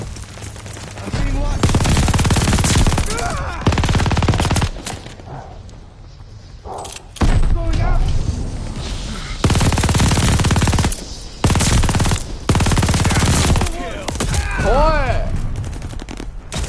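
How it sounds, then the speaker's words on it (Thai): MG42 machine gun in Call of Duty: Vanguard Domination mode, loud sustained bursts of automatic fire repeating in long strings with short gaps, close and heavy, with occasional thumps and speech between bursts. "ยิงแบบโคตรบ้าโคตรบ้าคลั่ง"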